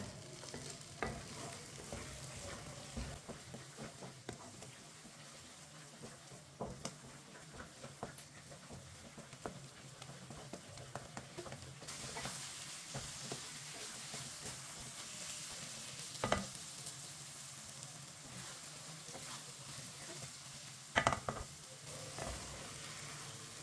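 Egg and semolina halwa cooking in a pan, a soft continuous sizzle under repeated scraping strokes of a spoon stirring, with occasional louder knocks against the pan.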